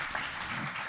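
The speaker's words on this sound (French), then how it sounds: "On les applaudit." Brief applause from a university round-table audience, a dense wash of clapping lasting about a second at moderate, even level.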